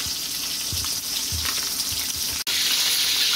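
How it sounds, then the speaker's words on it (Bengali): Katla fish fries in a pan with a loud, continuous close sizzle and hiss, with a few soft low knocks from the pan, no talking. "মাছটাকে কিন্তু আমি একটু উল্টিয়ে দিয়েছি যাতে দুপাশই ভাজা হয়।"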